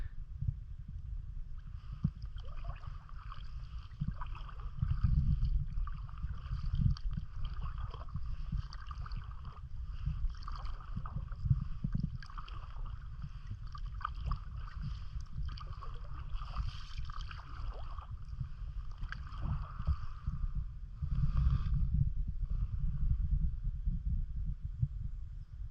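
Paddle strokes on glassy calm water during a kayak trip toward Juneau, soft rhythmic dips and swishes repeating steadily over a low continuous rumble, fairly faint and close.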